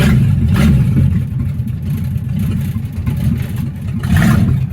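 A 1962 Mercury Comet with a rebuilt C4 automatic transmission drives in reverse, its engine a loud, close, rumbling drone that swells at the start and end with no talk.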